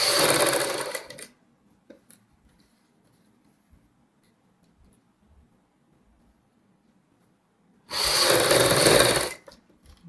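A sewing machine runs a seam on a baby frock in two short, fast bursts separated by a long quiet pause.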